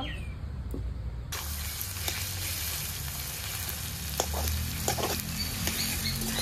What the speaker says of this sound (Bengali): কড়াইয়ে গরম সরষের তেলে তেজপাতা, শুকনো লঙ্কা, জিরে, গরম মশলা ফোড়ন দিয়ে হালকা নেড়ে চেড়ে